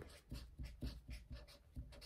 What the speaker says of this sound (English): So I'm going to write lettuce at the top.